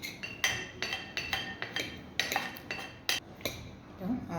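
Macaroni salad with mayonnaise, condensed milk and fruit cocktail being mixed, giving a run of close, irregular clinks and scrapes of a utensil against a bowl, with no voices.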